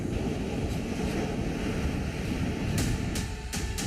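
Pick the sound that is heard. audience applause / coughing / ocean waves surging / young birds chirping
ocean waves surging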